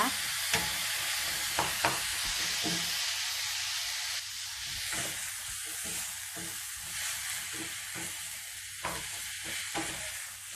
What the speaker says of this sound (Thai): ราดลงไปบนกุยช่ายของเรานี่ค่ะ คลุกๆกับกุยช่ายไปเลยนะคะ